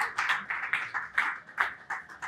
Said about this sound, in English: can we give Prof Yes. another round of applause?